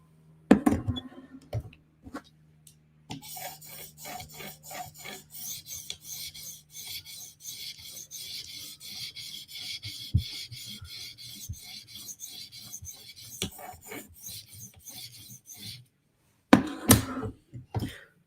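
Steel knife blade being honed on an 800 grit whetstone during a polishing pass, a steady run of close, even rasping strokes that continue for most of the stretch, with a few louder scrapes and clicks at the start and end.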